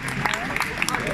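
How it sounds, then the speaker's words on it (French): An audience at a French museum reopening ceremony applauds, with scattered, irregular claps mixed with crowd murmur and voices over a short burst. "On peut l'applaudir, je crois, ça mérite bien."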